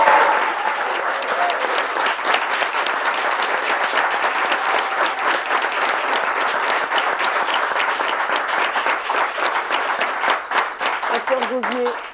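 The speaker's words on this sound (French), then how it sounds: "Est-ce qu'on peut s'applaudir très fort ?" A studio audience claps loudly and continuously, many hands in a sustained roar of applause, with a brief voice rising near the end.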